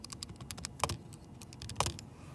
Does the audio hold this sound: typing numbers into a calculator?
yes